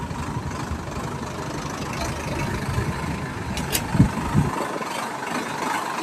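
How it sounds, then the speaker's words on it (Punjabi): A Sonalika DI 60 tractor engine idles with a steady low rumble, a few louder knocks near the end before the low end drops away. "ਲਓ ਜੀ ਪਹਿਲਾ ਟਰੈਕਟਰ DI 60"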